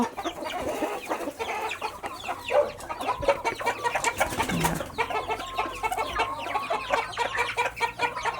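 A flock of laying hens clucks and chatters continuously nearby, with overlapping busy calls and scratching sounds throughout.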